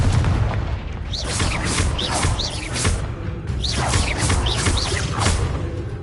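Confringo fire spells in the Hogwarts Legacy video game, repeated whooshing bursts and booming blasts landing in quick succession over a dense, loud roar of combat, with no voices over them.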